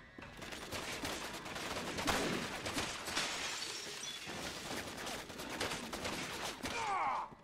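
Sniper rifle fire in Resident Evil 6 rings out amid a dense game battle, with repeated sharp gunshot cracks and bursts layered over continuous noisy action and a shattering sound near the end.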